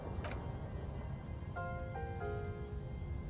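Steady rain falling in the video game Disco Elysium, a constant close hiss and patter with a few soft tonal chimes from the game's ambience layered over it.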